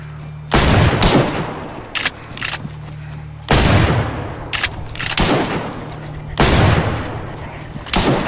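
Gunshots in the survival game DayZ: three loud, sharp blasts ring out a few seconds apart, each trailing off into echoing rumble. Fainter shots and scattered noise fall between them.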